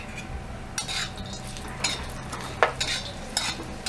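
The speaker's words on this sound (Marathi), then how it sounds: "तर यामध्ये सुक्कं खोबरं कापून घेतलेलं तेही चांगलं तेलावर" Dried coconut pieces roasting in oil in a pan, stirred with a utensil that scrapes and clinks at intervals over a low, steady sizzle.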